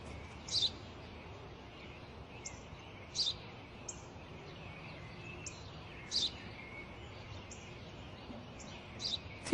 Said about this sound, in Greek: Ένα σπουργίτη.